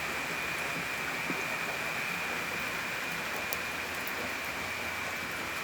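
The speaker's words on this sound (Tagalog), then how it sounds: "Ulan na naman." Steady rain falls continuously, a dense, even hiss of drops with occasional louder taps on a surface, heard alone at a moderate distance with no voices.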